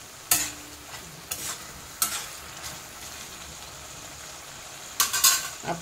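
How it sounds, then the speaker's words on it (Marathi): Dhaba-style egg keema masala fries quietly in a pan as grated eggs are stirred in. A low sizzle runs under a few distinct utensil scrapes, the last ones louder and clustered. "हे किसलेले अंडे टाकूया। चांगलं एकत्र करून घ्यायचं।"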